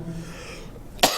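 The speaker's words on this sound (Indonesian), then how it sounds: "batuknya belum sembuh" A single harsh cough from a man with a lingering illness bursts out near the end of a short, quiet stretch during a religious lecture, with no speech around it.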